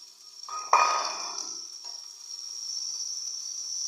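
Tomatoes with salt and sugar drop into a hot oiled pan for chicken manchurian, setting off a sudden loud sizzle with a clink, then a steady frying hiss that lingers.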